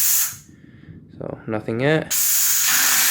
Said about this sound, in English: A little water and steam.